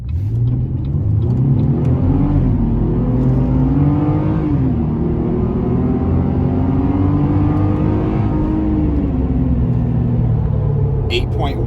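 A Chevrolet ZR2 truck with 4.56 gears and big tires, in off-road mode, accelerating hard from 0 to 60, its engine note climbing loudly and steadily through the gears from close inside the cab.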